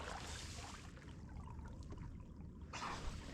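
A kayak is paddled far offshore over deep water, about 8 km out, with faint trickles and drips of water from the paddle and hull over a soft, steady background.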